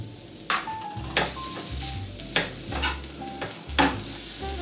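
Food in a hot pan sizzling steadily while being stirred, with repeated scraping strokes at a regular pace, close and alone.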